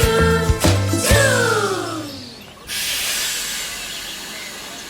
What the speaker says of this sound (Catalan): el so del tren farem